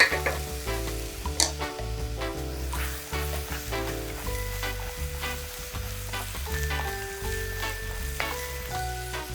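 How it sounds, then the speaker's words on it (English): Potatoes fry in a pan with a constant close sizzle and occasional stirring clatter, accompanied by melodic background tones and no speech. "I'm going to try not to move it around and just let it cook for a little while here."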